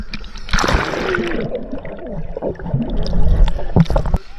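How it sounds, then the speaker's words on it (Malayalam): Sea waves wash and slosh over stones along a rocky shore, a loud churning rush of water close by that swells and gurgles for a few seconds. "I'm getting hit by the stones and the waves"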